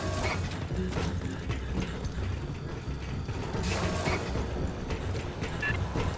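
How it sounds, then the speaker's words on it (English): Heavy freight elevator machinery in the sci-fi shooter Aliens Fireteam Elite, a continuous loud mechanical grind with ratcheting clanks, creaks and low rumbling throughout, with no talking. "Big freight elevator goes all the way up the main tower."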